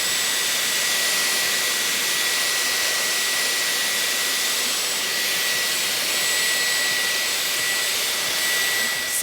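Dyson hair styler blowing air in a steady, loud whoosh that runs unbroken throughout, with a faint high whine on top and a brief click at the very end; no one speaks.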